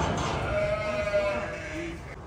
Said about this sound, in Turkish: Bu keçiler kurbanlık arkadaşlar.